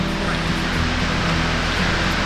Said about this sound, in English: It's a gorgeous waterfall.